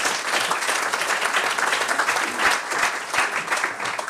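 An audience claps steadily for guests joining a panel on stage, a dense, even wash of applause that holds at a constant level for a few seconds with no voices over it.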